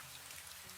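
Rain falls steadily on a mud roof in an animated scene, with water dripping in a soft, continuous patter that stays faint and even throughout.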